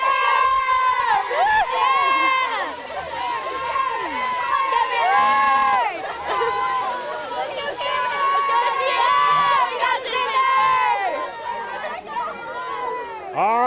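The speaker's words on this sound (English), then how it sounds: "Ladies, let's have a cheer." High school cheerleaders at a football game chant a cheer together, voices loud and rhythmic with crowd noise and cheering around them.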